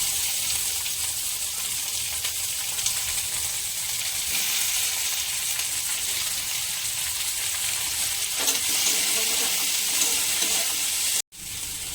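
Chopped onions and chillies frying in a pan for egg tadka give a continuous, close, even sizzle with occasional stirring scrapes, breaking off briefly near the end.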